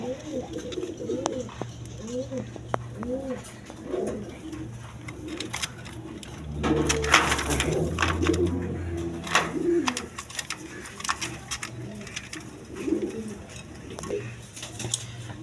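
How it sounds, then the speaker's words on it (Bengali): Red checker racing pigeons, including young birds, coo in repeated soft rolling phrases close by, with a person talking over and between the calls. "এক পেয়ার রেড চেকার বেবি আছে রেড চেকারের বেবি রেশার কবুতর"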